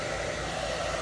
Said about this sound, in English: I'm just gonna blow dry this real quick